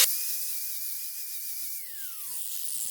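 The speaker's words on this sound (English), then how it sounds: "And then we give it a final smoothing with the side of the disc." An angle grinder disc smooths the knife-cut edge of a rubber tire being made into a swing seat, giving a steady high-pitched whine and hiss that holds level, then dips in pitch as the disc loads against the rubber.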